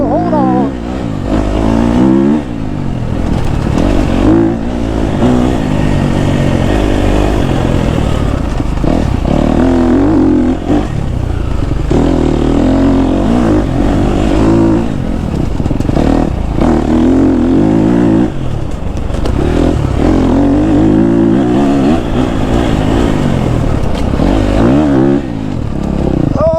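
A KTM 250 SXF dirt bike ridden on a forest trail, its engine loud and close throughout, revving up and down with repeated throttle surges and some clatter over uneven ground.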